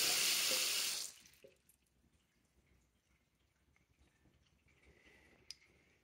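Tap water gushing loudly into a bathroom sink with a partly clogged drain trap for about a second, then cut off, leaving faint draining trickles and a small drip.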